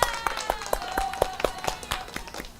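Hands clapping in a steady series of sharp, evenly spaced claps, moderately close, with a faint tone and background sound underneath during a live stream.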